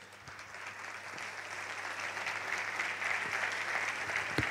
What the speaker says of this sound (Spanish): Fuerte el aplauso para recibir la magia de Dexter.